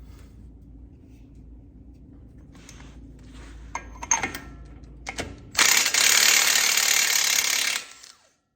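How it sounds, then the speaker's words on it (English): A ratchet on a 35 mm socket turns an axle nut in a few scattered clicks, then a loud steady burst of rapid ratcheting for about two seconds before stopping abruptly. "I'm just going to use the socket still on the nut just to drive the axle in a little bit."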